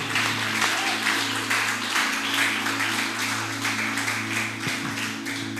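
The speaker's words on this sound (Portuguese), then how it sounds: "Você vai aplaudir Jesus mais alto aí o que você puder" Congregation applauding for Jesus at a Brazilian evangelical church service, a sustained wash of clapping held steady for several seconds under a low droning hum of music.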